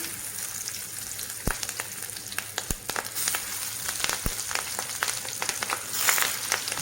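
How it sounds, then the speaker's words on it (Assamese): Bhangon fish pieces fry in hot oil with a steady, crackling sizzle, dotted by sharp pops and spatters throughout, close and fairly loud. "এতিয়া মাছকেইটুকুৰ ভাজি ল'ম।"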